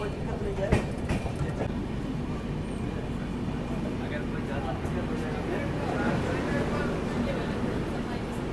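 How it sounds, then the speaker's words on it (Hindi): The Vikramshila Express rolls steadily on the approach to Ghaziabad outer, a continuous low rumble of wheels and carriages with faint rhythmic clatter, while someone talks over it. "अभी अपनी ट्रेन पहुँच गई है गाज़ियाबाद आउटर में"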